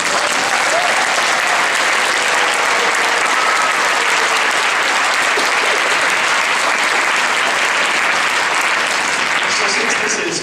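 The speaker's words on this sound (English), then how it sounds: "how about another round of applause for our choirs and orchestras?" An audience claps loudly and steadily for choirs and orchestras at a concert hall performance, dense sustained applause filling the whole span without letup.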